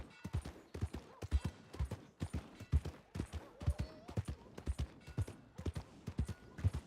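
Horse hooves clip-clop in a steady, brisk rhythm across Red Dead Redemption 2 terrain, each strike sharp and close, with a faint tonal whine briefly rising midway.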